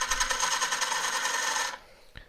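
A 3/8 gouge takes cuts from an elm burr spinning on a wood lathe, a steady close rasping hiss running for nearly two seconds, then breaking off with one faint knock at the end.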